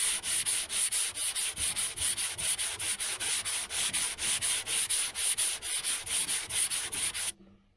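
Steady back-and-forth hand sanding with sandpaper over a dented body panel on a 1972 Chevy Nova, a close, rhythmic scratchy rasp of about two strokes per second that stops abruptly at the end.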